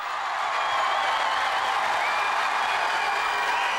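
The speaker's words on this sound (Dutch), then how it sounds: "het publiek is uitzinnig" A crowd at a judo match in Amsterdam, cheering and applauding in a loud, sustained roar that builds and holds steady throughout.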